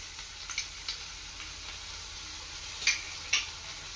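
Ginger paste frying in a pan gives a faint, steady sizzle, broken by a few soft scrapes and clicks as it is stirred. No one speaks.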